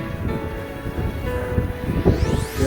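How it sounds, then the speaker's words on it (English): Blizzard wind roars steadily on the Appalachian Trail, a loud, continuous rushing buffet against the microphone with snow and gusts, no voices. "Get out of the wind."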